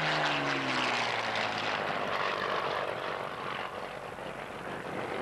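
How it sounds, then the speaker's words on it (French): A Spitfire flies low and manoeuvres, its piston engine and propeller making a loud, sustained drone. The pitch falls at the start as the plane passes, and the roar stays strong to the end. "on va redescendre avec ce Spit pour découvrir comment ils volent à basse altitude, en manœuvre"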